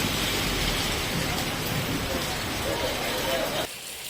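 A sudden afternoon rain shower pours down steadily in a dense, close wash of hiss that cuts off sharply near the end, with no talking heard.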